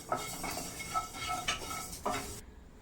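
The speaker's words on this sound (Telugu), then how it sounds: "ఇప్పుడు మెంతులు వేయించుకుందాం." Fenugreek seeds dry-roasting in a pan for homemade mango pickle, heard as a few close scrapes and clinks of a utensil against the metal pan over a faint steady hiss, with no talk.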